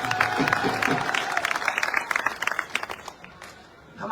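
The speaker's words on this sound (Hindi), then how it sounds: "जोर से इनकी ताली बजाते हैं" Crowd at a political rally in Sadulshahar breaks into loud applause, clapping densely at first, then thinning into scattered claps before fading out.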